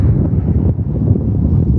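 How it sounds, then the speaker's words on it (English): Strong wind buffeting a microphone outdoors at Mono Lake beside Highway 395, a loud, continuous low rumble with gusty fluctuations and no talking. "A little windy."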